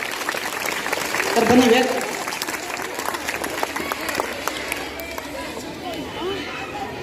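Loud applause from a crowd welcoming a guest at an Independence Day event at a government school, sustained clapping with a swell near the start and murmuring voices under it.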